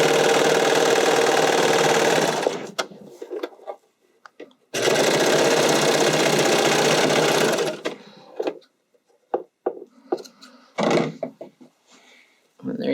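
Sewing machine stitching elastic into a bodysuit: two long, loud steady runs of rapid needle clatter close up, followed by scattered clicks and fabric handling in between, no talking.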